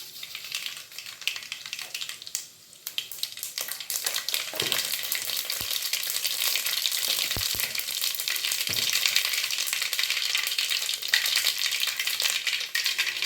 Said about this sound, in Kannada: ಎಣ್ಣೆ ಬಿಸಿ ಆಗ್ತಿದ್ದಂಗೆ ಸಾಸಿವೆ ಹಾಕೋಣ